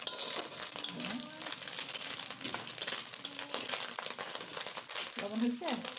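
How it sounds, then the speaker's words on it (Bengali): Small puti fish frying in a pan, a continuous crackling sizzle with occasional light clinks and rustles, with a voice speaking intermittently over it. "এখন এইগুলোকেও আমি খুব সুন্দর করে ফ্রাই করে নেব"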